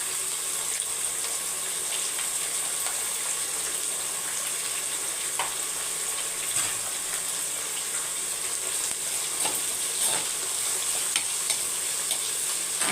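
Small shallots frying in hot oil in a pan, a steady bright sizzle throughout with occasional stirring clinks and scrapes, close and continuous with no talking.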